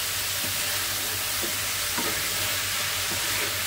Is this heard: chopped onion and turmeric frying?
yes